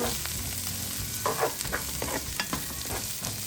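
Onion stir-fried in a pan after garlic for a squash and string bean dish produces a steady close sizzle with scattered clacks and scrapes of a spatula stirring at an irregular rhythm.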